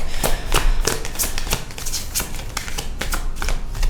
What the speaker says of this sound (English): I don't know why I'm shuffling this deck